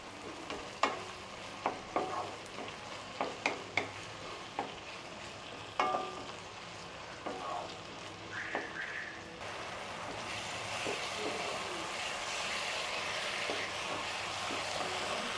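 Chopped tomatoes sautéing in oil for a Tamil prawn gravy: a soft, steady sizzle with scattered stirring scrapes and taps near the start, then a broader hiss that swells later.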